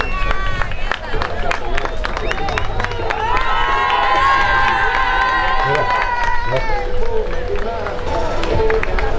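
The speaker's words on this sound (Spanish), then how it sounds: "un aplauso para ellas." Outdoor crowd claps and cheers at a beach rugby tournament awards ceremony in Villajoyosa, with excited shouts and whoops rising over scattered applause and loud voices talking nearby throughout.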